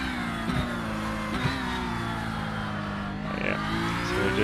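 A race car engine in the iRacing sim hums steadily at moderate revs during a cool-down lap at Miami, with continuous even droning and slight pitch shifts.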